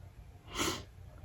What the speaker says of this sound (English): I'm so sorry about the sniffling